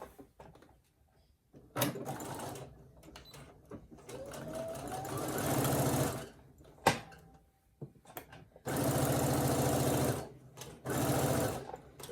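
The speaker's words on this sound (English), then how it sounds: "we're gonna go to the sewing machine and we're gonna do the same thing" A Brother SE1900 sewing machine stitches in several bursts of whirring, mechanical running, the longest lasting a few seconds, with short pauses and light clicks and handling noises between them, heard up close.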